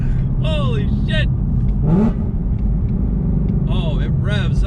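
A 2018 Ford Mustang fitted with straight pipes and headers roars continuously with a heavy, loud engine rumble that swells in short revs, while people shout excitedly over it.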